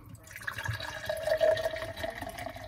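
Mountain Dew Baja Mango Gem soda pours from a can into a glass, a steady, close liquid fill with a soft fizzing splash that runs for a few seconds without talk.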